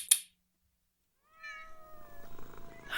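Cats meow in a game scene, a short sharp click followed by silence, then a drawn-out meow with faint overlapping cat calls close by.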